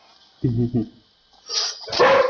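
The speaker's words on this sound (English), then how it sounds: "sorry, that was my dog." A pet dog lets out a couple of short, close barks indoors, followed by a brief louder muffled burst of noise.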